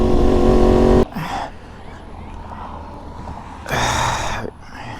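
A Yamaha R1 sport motorcycle fitted with a KO exhaust barks loudly, with a sustained roar at the start and a second short, sharp rev burst later, separated by a quieter idling stretch.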